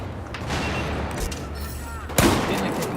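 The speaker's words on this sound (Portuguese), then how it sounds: "Isso é um bombardeio." Bombardment explosions and gunfire in a video game, a continuous rumbling barrage with scattered cracks and a heavy boom near the end, under faint talk.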